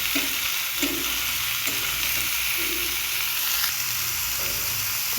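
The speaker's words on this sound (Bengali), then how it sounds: "ঝিঙে দিয়ে ভালো করে একটু নেড়ে চেড়ে নেব।" Chopped ridge gourd stirred into cooked spice masala in a pan for a rohu fish curry, an even close sizzle with a few soft scraping knocks from a spatula at irregular intervals.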